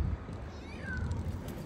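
A cat meows while being offered meat, a single drawn-out call rising and falling, moderately close, over a low background rumble.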